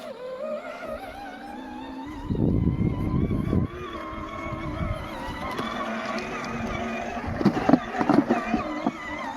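A red ride-on toy car straining and accelerating through rain-soaked mud among trees, its motor whirring steadily with louder bursts of effort partway through, while a voice talks over it.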